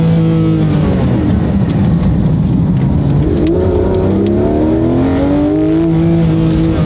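A Porsche GT3 RS is driven hard through a corner on a racetrack, its engine loud and close, shifting pitch as revs rise and fall, with faint tire noise under it.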